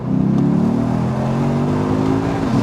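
A Lexus IS F pulls hard in second gear from around 3,000 RPM, its engine note loud, close and steadily rising in pitch for a couple of seconds with no talking over it.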